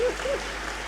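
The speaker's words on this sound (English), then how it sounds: "Please, a round of applause." Applause from an audience at a formal memorial lecture, a short steady patter of clapping lasting under a second with a faint voice briefly audible over it.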